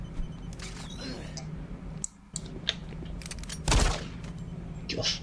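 Pistol fire in Doom 3: several sharp cracks scattered over a few seconds, the loudest burst near the end, set against a humming industrial background with some talking mixed in.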